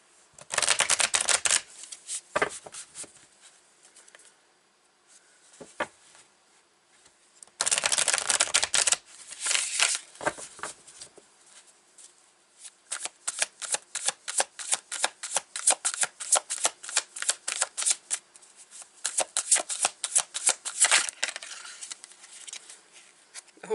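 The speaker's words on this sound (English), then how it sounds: "I'm going to take, let's see, from the Light Seers Tarot." Light Seers Tarot cards being shuffled by hand at close range, crisp riffling bursts and rapid flicking runs that stop and start over a long stretch, with quiet gaps between.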